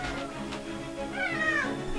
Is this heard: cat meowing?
yes